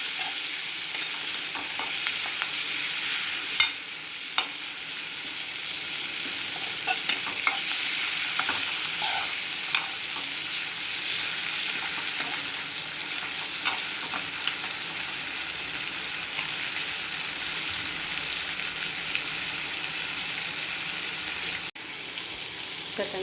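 Tomatoes frying in a pan for potato masala, a steady close sizzle with occasional stirring clicks and scrapes running throughout, no talking.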